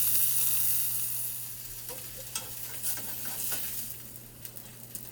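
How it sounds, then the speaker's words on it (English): Lamb arayes in tortillas sizzle and crackle steadily in a hot pan, with a few brief clicks and taps of utensils near the end. "Here are the Arayes frying."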